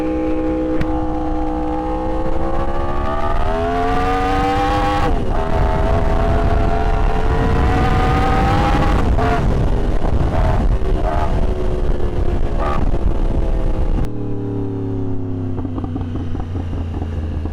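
A Yamaha R1 superbike engine roars while riding, loud and sustained, its pitch climbing and falling through gear changes, with a sudden drop to a lower drone near the end and no talking.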